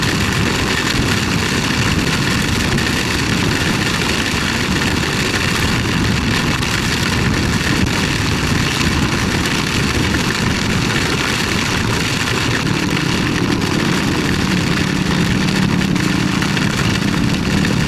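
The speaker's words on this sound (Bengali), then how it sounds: "অনেক বাতাস শুরু হয়েছে, অনেক বাতাস শুরু হয়েছে।" A strong storm wind sweeps across the Padma river, a continuous loud, rough roar buffeting close by without letup.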